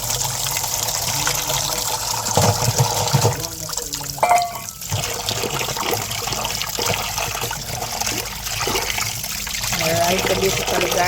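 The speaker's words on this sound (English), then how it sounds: "I am washing my coconut." A coconut is washed under running water for a Jamaican gungo stew, giving a continuous trickling and splashing with handling noises, heard alongside voices and background sound.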